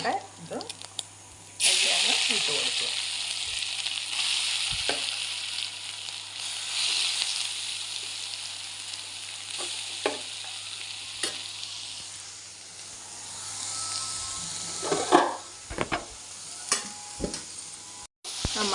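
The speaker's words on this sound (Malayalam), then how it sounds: "നമ്മൾ അതിൻ്റെ അകത്തോട്ട് നമ്മുടെ കൂട്ട് പച്ചക്കറികളെല്ലാം കൂടെ ഇട്ട് കൊടുത്ത് നല്ലതായിട്ട് ഒരു 2 മിനിറ്റ് ഫുൾ സിമ്മിലിട്ട് നല്ലതായിട്ട് ഇളക്കി കൊടുക്കണം" Shredded cabbage and carrots for Kerala kuttu thoran frying in a pan on full heat, a steady loud sizzle with intermittent stirring clatters and scrapes, some voices faintly in the background.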